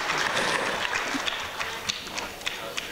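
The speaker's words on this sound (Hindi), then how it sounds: "इसके लिए ज़ोरदार उनको तालियां" A theatre audience breaks into applause for the composer of the ghazal tunes at a stage show: dense, steady clapping fills the whole stretch, with a few sharper individual claps standing out near the end.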